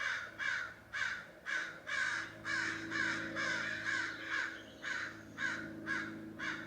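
Crows caw repeatedly in a steady series of harsh calls, fairly close and loud, with a low hum running underneath throughout.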